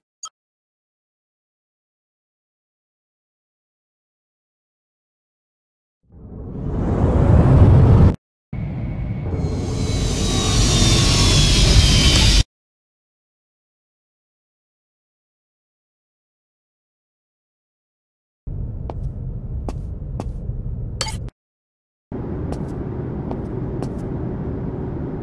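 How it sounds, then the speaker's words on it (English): Spaceship docking and automatic landing sequence in the space game Rebel Galaxy Outlaw: a rising engine roar, then a loud hissing thrust burst, a pause, and steady mechanical droning in two later segments, with no talk. "Automatic landing sequence initiated"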